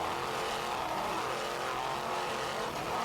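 Twin 800 horsepower Mercury inboard engines on an offshore racing powerboat give a loud, sustained roar with no gaps, heard alone with no talking.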